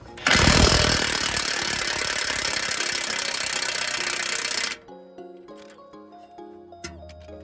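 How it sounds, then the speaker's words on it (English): An impact wrench with a 21 socket hammers loudly and continuously on the axle of a BMW 7 Series during CV boot replacement, then stops, leaving lighter metallic clinks and ratcheting. "This is a 21 socket. I'm gonna use my impact wrench."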